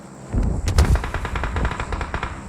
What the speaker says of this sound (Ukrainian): Хтось збоку стріляв